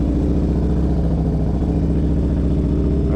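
A tuned motorcycle with an HPI setup and Woods cam running on a ride, a loud, close, throbbing low engine note with steady rhythmic pulsing and a clattery edge, holding a constant pace throughout.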